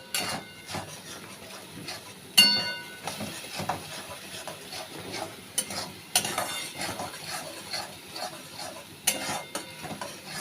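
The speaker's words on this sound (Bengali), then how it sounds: "এই দিয়ে কষাবো এখন, কষিয়ে তারপরে লাস্টে দুধটা দিয়ে আবার কষাবো।" Prawns for chingri malai curry being sautéed in a pan, with a steady frying sizzle and repeated clanks and scrapes of a spatula against the metal, some sharp and close.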